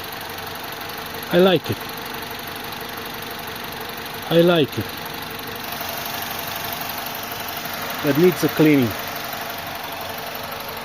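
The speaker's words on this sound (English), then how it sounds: "The engine runs smooth." A BMW E46 engine idles with a steady low hum throughout, while a person speaks over it in a few short bursts.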